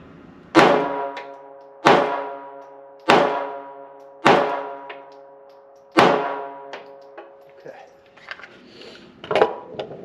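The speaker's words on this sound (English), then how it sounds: "You can see some of those bullets bouncing off the steel on that one." Metallic clangs ring out as .380 ACP bullets strike a steel target, five loud evenly spaced hits with long ringing decay, followed by fainter scattered pings and thuds as fragments bounce off; distant voices murmur near the end.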